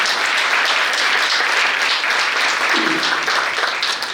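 Audience applause for a Ram Stuti devotional performance by the Kalasangam group, a dense, steady wash of many hands clapping throughout, moderately loud with no talk.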